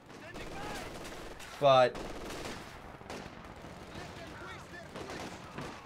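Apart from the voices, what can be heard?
machine gun and sniper fire in video game Company of Heroes 2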